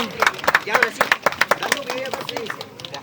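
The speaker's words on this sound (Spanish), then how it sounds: "El aplauso, damas y caballeros." Wedding guests applauding at a village celebration in Huancavelica, Peru, with loose, uneven claps ringing out close by while voices chatter and call out over them, the clapping thinning after a couple of seconds.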